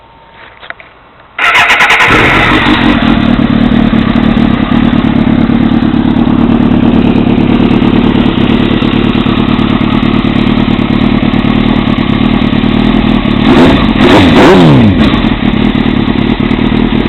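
2002 Suzuki GSXR motorcycle with a shortened carbon fiber exhaust starts up and runs loud and close, with a sharp rev burst near the end.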